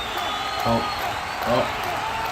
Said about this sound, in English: And the crowd is just going wild out there.